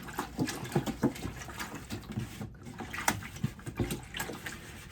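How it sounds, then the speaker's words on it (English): Water poured into a potter's damp box and run over a hand, giving an uneven splashing trickle with intermittent spatters, close and moderately loud. "I'm going to pour some water in, and at the same time I'm cleaning my hand."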